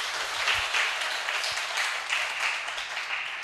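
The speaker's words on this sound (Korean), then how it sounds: "여러분 박수 부탁드릴까요?" Audience applause at a future-education forum in Seongnam, a steady, even wash of many hands clapping at moderate distance, sustained and fairly quiet throughout with no voices over it.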